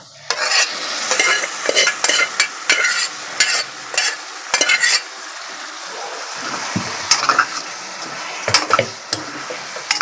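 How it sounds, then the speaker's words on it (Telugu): Gongura leaves dropped into a paneer curry frying in oil, a close, loud sizzle with repeated scraping stirs of a spoon in the pan, no talk. "ఇదిగోండి ఇప్పుడు ఈ గోంగూర దీంట్లో వేసేసుకుందాం."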